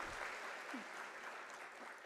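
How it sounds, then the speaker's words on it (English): Audience applause for a sign language interpreter at a University of South Africa autumn graduation ceremony: a faint, steady wash of clapping from a distant crowd that continues without a break. "Can we give a round of applause to our sign language interpreter, Asanda Kachwa?"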